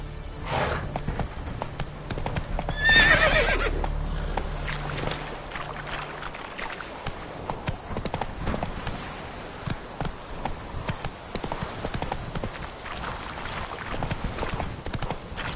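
Horse hooves galloping in The Witcher 3, a rapid, even clip-clop rhythm at close range that runs the whole clip, with a brief whoosh near the start.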